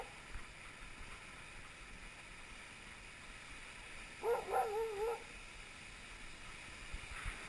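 A sled dog team at a kennel gives a brief cluster of barks and yelps midway, faint and distant over a steady low background rumble.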